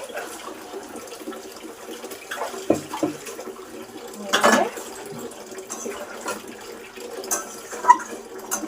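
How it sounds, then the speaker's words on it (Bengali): Water is poured into a pan of dissolved Amul milk mixture in a home kitchen, a soft, intermittent trickle and splash that swells into a brief louder pour midway, then settles to quiet liquid sounds. "এর মধ্যে একটু জল দিয়ে দেবো"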